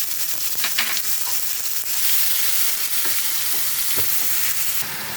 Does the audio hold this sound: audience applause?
no